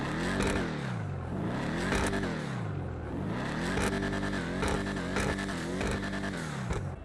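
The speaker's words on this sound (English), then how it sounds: "let's get an exhaust test, because I know this one is going to be so good" The exhaust of a Vapid Dominator GT muscle car in GTA Online is revved repeatedly while standing still. Several loud, close rev cycles swell and drop in pitch, with no talk.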